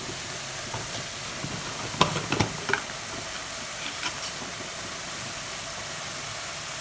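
Constant sizzle of bitter gourd sautéing in a frying pan without water, with a few clinks and scrapes of a utensil stirring around the two-second mark.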